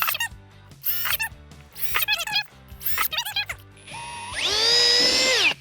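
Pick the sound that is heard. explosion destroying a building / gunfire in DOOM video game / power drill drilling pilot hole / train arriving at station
power drill drilling pilot hole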